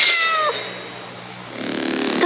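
A single loud, close cat meow with a falling pitch opens the moment, followed by a hissing, airy background that swells again at the end.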